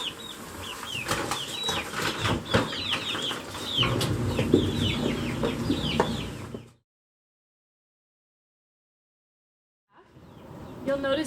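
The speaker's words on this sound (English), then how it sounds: "We have 13 chickens of different varieties." A backyard flock of thirteen mixed-breed chickens, including fuzzy-footed Cochins, clucks and chatters in a dense, busy chorus. Then the sound cuts to silence for a few seconds before the flock resumes.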